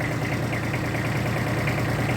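A tractor engine runs with its rotary tiller attached, giving a steady, close, even mechanical drone with a low rhythmic knock and no speech.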